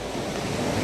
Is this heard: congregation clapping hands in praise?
no